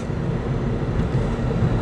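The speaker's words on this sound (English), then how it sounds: "With a train passing on the CSX line" A train on the CSX rail line at Newark, Delaware passes with a steady, loud low rumble and broad roar that stays even for the whole short stretch.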